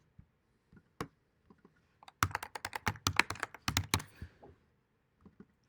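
A computer keyboard is typed on alone in a quiet room: a few isolated key taps, then a quick burst of rapid clattering keystrokes, ending in scattered single clicks.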